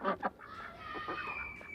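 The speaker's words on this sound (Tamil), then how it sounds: "வாத்து கத்தும் சத்தம்." A few nasal quacks from ducks, two sharp calls followed by a busier stretch of overlapping honking calls, moderately close.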